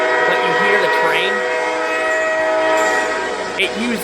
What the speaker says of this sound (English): It's a recreation of the original logo, but you hear the train.